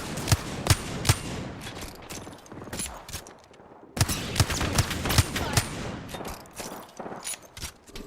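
Rapid gunfire in Apex Legends comes in sharp repeated bursts with loud close shots, a brief pause, then more volleys and scattered single cracks over a steady background.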